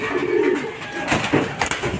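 Racing pigeons coo softly at a loft among rustling and outdoor noise, several birds murmuring close by with a few sharper flutters.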